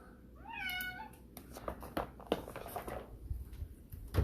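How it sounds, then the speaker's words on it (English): A house cat meows loudly and insistently near the microphone, one long rising wail early on followed by shorter cries, amid scattered clattering and background noise, with no talk. "All that with a cat screaming at me."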